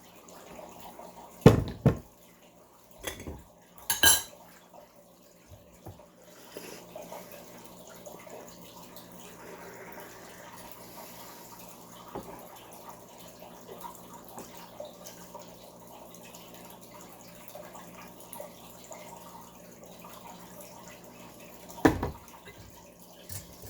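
The leftover rinse of 2005 Haiwan Organic Spring Tips raw puerh tea is tipped aside in brief splashing pours near the start and again near the end, with long stretches of faint dripping and quiet between.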